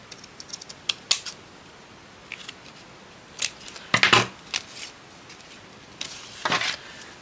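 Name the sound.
trimming paper with paper scissors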